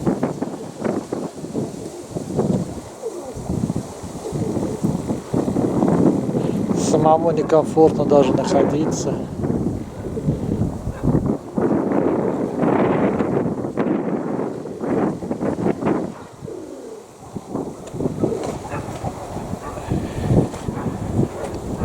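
A strong, cold wind buffets an open-air spot where pigeons are being flown, roaring steadily and rumbling against the microphone while someone speaks over it.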